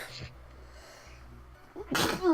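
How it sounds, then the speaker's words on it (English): A single sharp sneeze comes close and loud after a quiet pause, with a brief intake of breath before it and a short voiced trail after. "I just had to sneeze."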